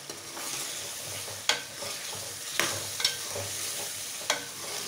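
Broken cinnamon pieces added to a pot for biryani, sizzling steadily in hot oil with a few sharp clinks of stirring at intervals, close and moderately loud, no talking.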